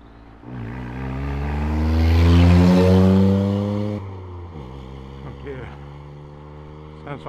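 A vehicle with a loud, worn exhaust passes close by, its rough engine drone swelling to a peak and fading, followed by a steady lower engine hum.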